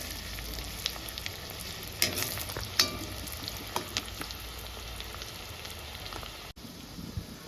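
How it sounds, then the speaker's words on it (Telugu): Chopped onions and green chillies fry over medium heat on a hot pan for vegetable egg fried rice, a faint steady sizzle with a few clear stirring clacks. "పచ్చిమిరకాయలు, కొద్దిగా మీడియంలో పెట్టుకొని ఫ్రై చేసుకోవాలండి."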